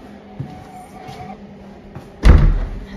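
A big, heavy entrance door of an old Berlin building swings shut with a loud, booming slam, preceded by softer creaks and rustling in a quiet hallway.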